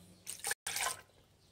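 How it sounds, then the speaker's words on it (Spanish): Lemon juice pours from a container in a kitchen while an aloe drink with honey is prepared, making a soft, brief liquid splash that stops and starts again, quiet and close. "Ahora ponemos el jugo de limón."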